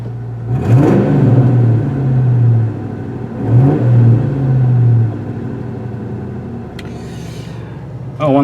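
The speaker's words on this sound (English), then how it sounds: "A little higher now with the AC on and compressor going on." A 1998 Ford Mustang GT engine idles steadily with the AC compressor running, a continuous low rumble with slight rises in pitch near and loud, and brief voices intrude at the end.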